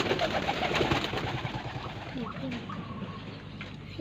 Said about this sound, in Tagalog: Kasi ito po yung ating papaliparan na kalapate.